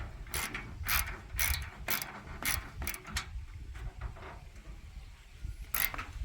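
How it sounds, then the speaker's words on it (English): A ratchet fitted with a 1/2-inch socket tightening a locking nut while assembling a Napoleon Freestyle 365 barbecue, a series of close, crisp ratcheting clicks in short irregular bursts with brief pauses between strokes. "Using a ratchet here with a 1/2-inch socket to tighten up the locking nut."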